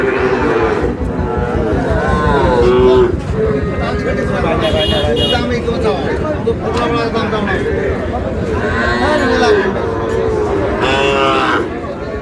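Sahiwal bulls low repeatedly at a busy cattle market in Dinajpur, with several loud moos rising over constant crowd chatter and trader talk close by.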